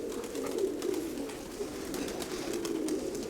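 Pigeons kept in a loft, cooing softly in a steady low murmur that runs throughout, close by, with no talk over them.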